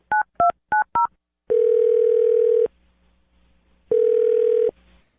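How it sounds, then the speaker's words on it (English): A telephone is dialed: four quick keypad tones in a row, then two long steady ringback tones separated by a pause, clear and close with no voices. "I'm going to dial her phone number right now"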